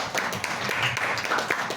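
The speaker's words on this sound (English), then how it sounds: "Clap for that." An audience claps at an International Albinism Awareness Day event, a brief, moderately faint burst of dense applause that holds steady throughout.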